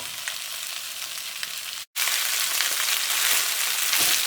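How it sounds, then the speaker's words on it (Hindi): Okra for bhindi masala fries in a hot pan with a loud, steady sizzle, briefly cut off near the middle before resuming with the same crackling hiss. "भिंडी को हल्का सा फ्राई करना है 2 से 3 मिनट के लिए।"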